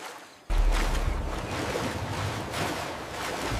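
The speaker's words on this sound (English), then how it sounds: "Waves splash around her shoulders." Floodwater waves splashing in the Everglades, a sudden loud surge of turbulent, rushing water that stays steady and close after a brief quieter start.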